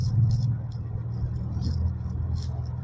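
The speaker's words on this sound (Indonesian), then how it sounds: "Gigi 1, merayap di polisi tidur." A manual car crawls slowly in first gear over a speed bump, a steady low engine rumble and drone with faint higher chirps, while a person talks quietly over it.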